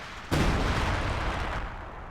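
A Priest self-propelled artillery gun fires in a war video game, one sudden heavy boom followed by a long rumbling decay that fills the rest of the moment.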